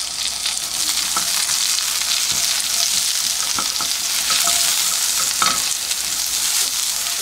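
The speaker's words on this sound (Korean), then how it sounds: "살짝만 볶으셔야 됩니다." Lion's mane mushroom and a little carrot sizzle in a sesame and vegetable oil mix, stir-fried steadily with a continuous close hiss and occasional soft scrapes, with no talking.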